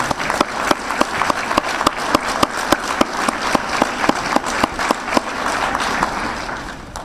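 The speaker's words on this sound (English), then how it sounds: "would you please join me in a round of applause recognizing Mark's accomplishment?" Audience applause at a UNESCO Chair launch event, a steady wash of many hands clapping with distinct sharp claps standing out, continuous and fairly loud for the whole stretch with no talking over it.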